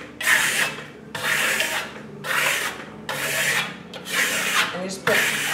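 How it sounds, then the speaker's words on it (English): A steel trowel is pulled lightly across Italian lime plaster to burnish it, making five rhythmic rasping strokes close up, each about a second long with short pauses between them. "And burnishing it is just lightly pulling your trowel."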